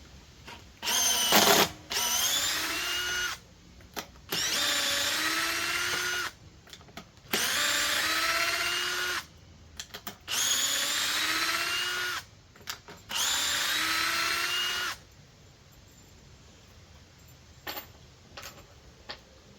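A 12-volt cordless drill with a 5 amp-hour battery whirs in several long bursts, its motor pitch sliding down as it strains to drive 3-inch screws, with short quiet gaps and clicks between runs.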